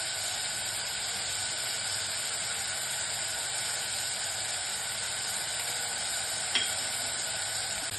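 Green chili and chopped tomatoes sizzle steadily in a hot pan for a home-style pepper rasam, a continuous close frying hiss with a brief faint clink near the end, no voices.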